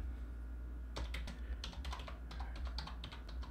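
Steady clatter of computer keys being typed in quick bursts, close and fairly clear over a low background hum, with no voices.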